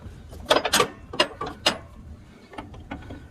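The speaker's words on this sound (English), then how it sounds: "there's one more that I need to pull off, and that is the clip that holds the accelerator." Metal clip holding the accelerator lever being pried and pulled off a riding mower, close by: a run of sharp clicks and rattling snaps, loudest early, then fainter scattered ticks, with no talk.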